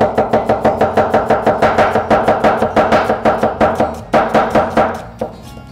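Steady, rapid knife strokes on a cutting board as an onion is chopped finely for a stew, each chop sharp and close, slowing to a few scattered cuts at the end.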